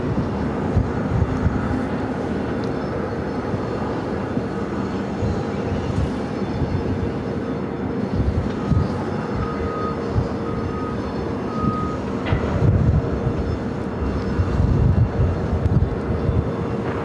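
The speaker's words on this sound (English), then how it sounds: "got that Delta A330 heading to Atlanta. Now rolling down at 7 left." A Delta A330 airliner rolling for takeoff on runway 7 left at Phoenix airport, a steady loud broadband engine roar that holds throughout, with a faint intermittent beeping tone layered in.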